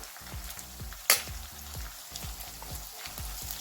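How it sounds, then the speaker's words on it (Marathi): Tomato and ginger-garlic paste go into onions frying in oil, making a close sizzle with one sharp burst as they hit the pan, followed by rhythmic scraping strokes of a spoon stirring the mixture. "इथे आपला कांदा छानपैकी शिजला आहे तेलामध्ये, त्यात आपण आता हा टोमॅटो घालून घेणार आहे"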